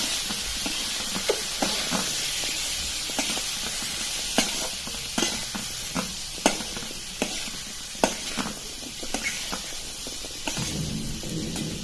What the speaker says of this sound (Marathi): हा मसाला पूर्ण बटाट्यांना कोट होईल अशा पद्धतीने हलवून घ्यायचं